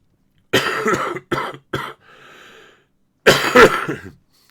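A sequence of sharp, close coughs in quick bursts, a brief raspy breath in the middle, then another hard cough.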